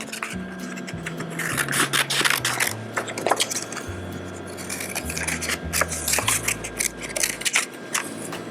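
Scissors cutting a vase shape out of cardstock, close and crisp, with repeated snipping and rasping strokes plus a low drone underneath.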